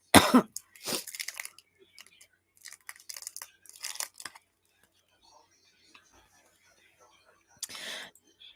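Crinkly cough drop wrapper sounds come in short bursts of rustling and tearing as it is unwrapped, mixed with a cough and quiet breathy noises.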